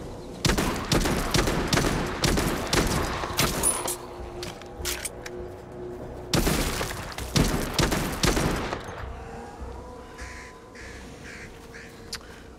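Repeated pistol shots from the VR video game Arizona Sunshine 2, sharp cracks fired in quick irregular bursts, loud and close, with a short lull before another volley and a quieter tail of game ambience.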